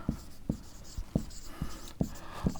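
Chalk or marker strokes on a classroom board during a Class 10 maths lesson, six sharp taps and scrapes spaced about half a second apart, close and fairly quiet, with no talking.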